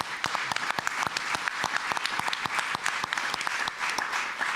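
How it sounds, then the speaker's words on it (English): An audience claps at a post-show panel discussion after a theatre performance, dense and steady applause of many hands that holds at an even level throughout. "So let's also give those folks a round of applause, please."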